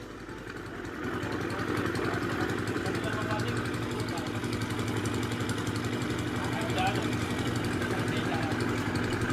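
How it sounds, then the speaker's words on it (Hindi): A Honda CG 125 motorcycle engine with a head noise fault starts and settles into a steady, loud idle with a low rumbling throb that continues throughout. "जो ही बाइक को स्टार्ट करेंगे और आपको इसकी आवाज़ चेक करवाएंगे"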